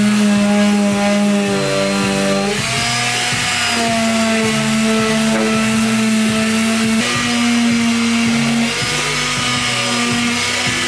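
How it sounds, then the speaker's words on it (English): A power sander with 80 grit paper works over metal in the engine bay of a BMW E36, a loud continuous whirring drone whose pitch shifts slightly as pressure changes, with no voices. "so I'm gonna do some sanding in engine bay"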